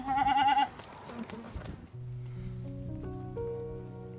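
Goats on a desert goat ranch, a loud wavering bleat up close at the start, then quieter rustling and a few faint animal sounds under steady tonal background noise.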